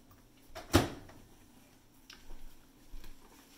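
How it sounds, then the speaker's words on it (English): A microwave door opened to take out a mug cookie, giving a single fairly loud clunk of the latch followed by a few softer knocks and handling sounds in a quiet room. "And now we're going to be taking it out of the microwave"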